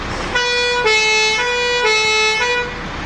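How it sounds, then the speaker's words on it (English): An ERF fire engine's horn-style siren blares loudly and steadily, its pitch rising and falling twice in a wailing pattern. "The horns one does the proper horns for the siren."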